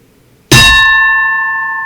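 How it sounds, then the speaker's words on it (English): A gavel strikes a bell once at a podium, giving a sharp metallic clang that rings on as a clear, steady tone and fades slowly. "the gavel is hitting the bell"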